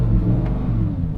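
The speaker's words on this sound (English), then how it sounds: "Gives you a soft limiter, then revs all the way up." A Lamborghini Huracán STO's naturally aspirated V10 engine hums steadily at idle, deep and rumbling, close and loud, with a low throaty tone and no rise in pitch.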